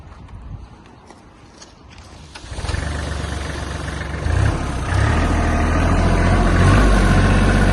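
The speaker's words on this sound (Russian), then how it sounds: "Трактор работает чисто." A Kubota GL-19 Japanese mini tractor fitted with an RL14G rotary tiller starts up, its engine catching after a few seconds of quiet and settling into a steady, loud, close idle that builds slightly in strength.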